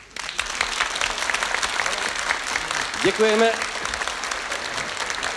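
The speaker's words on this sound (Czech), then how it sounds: "to si zaslouží potlesk." Theatre audience applauding members of the National Theatre ballet in Prague after a televised performance, a steady dense wash of clapping with a brief spoken word of thanks near the middle.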